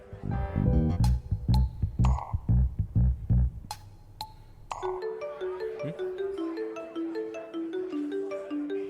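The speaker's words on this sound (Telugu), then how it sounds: "ఇది ఫోన్ చేస్తుందండి." A mobile phone ringtone plays a bright, repeating melodic tune indoors, clear and fairly loud, following a busy stretch of rhythmic music.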